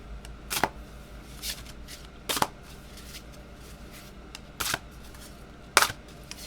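Oracle cards are shuffled in brief, separate bursts of riffling and flicking, four or five short bursts spaced apart against a quiet room.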